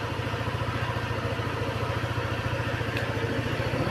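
A motorcycle engine idling close by, a steady rapid low-pitched putter with even pulses, alone without voices.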